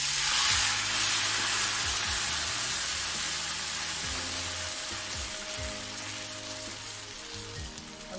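Cooked bilimbi (irumbanpuli) is poured into a hot pan for pulinji, giving a steady, hissing sizzle like rain that eases slightly over time, with faint low clunks underneath and no talk.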